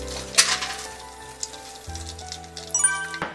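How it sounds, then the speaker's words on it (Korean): Breaded shrimp deep-frying in hot oil give off a steady, fairly quiet sizzle and crackle with scattered pops throughout. "튀김을 고르게 색이 날 수 있게끔 튀겨주세요."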